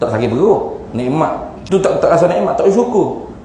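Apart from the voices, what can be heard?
No distinct noise like a dog, phone or traffic.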